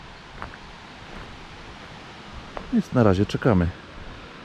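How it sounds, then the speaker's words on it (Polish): Rushing of a mountain stream flowing below a path, a steady, even broadband hiss heard throughout at moderate distance, with someone speaking briefly over it toward the end. "Poniżej jakiś strumień płynie, słychać szum."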